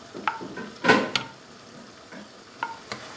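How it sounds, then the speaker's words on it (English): Okra pieces dropped into a curd masala in a pan and stirred, a few wet scrapes and a thick, muffled plop, with faint sizzling between the spoon strokes. "Time to add the ladyfinger."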